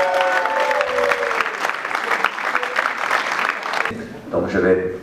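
Steady applause from a crowd at a rock band contest at L'Espace d'Albret, Nérac, fills the room for several seconds, fading as a voice begins speaking over the tail end.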